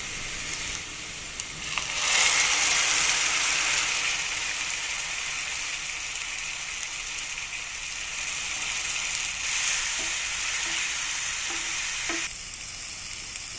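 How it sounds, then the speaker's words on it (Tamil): Ground tomato hits golden-brown fried onions in a pan for a spicy egg masala fry. A loud, steady sizzle swells sharply at first, then holds as a continuous hiss with a few light stirring taps and no talk. "இப்போது அரைச்சி வச்சுருக்கிற தக்காளி ஆட் பண்ணிடலாம்"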